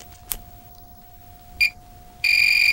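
A multimeter on continuity gives a brief electronic beep, then a steady sustained tone starts near the end and holds loud and close, in a quiet room with faint background hum.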